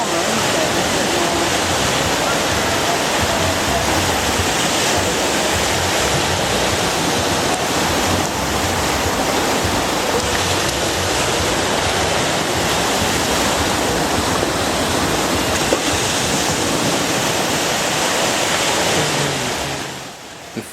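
Sea waves rolling onto an English beach, a steady broad roar of surf that stays loud and continuous throughout with no talk over it.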